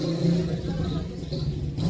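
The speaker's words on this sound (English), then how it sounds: "Here comes the bike. We'll let him get by." A motorcycle rides past on a Dominican Republic street, its mid-range engine note swelling and fading over about two seconds, fairly close, with a voice talking over it.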